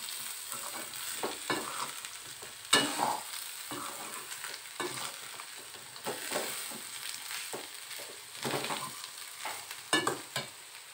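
Beetroot chutney is stirred in a pan over a low flame, with an irregular scraping of the spoon over a soft, steady sizzle for several seconds and no voices.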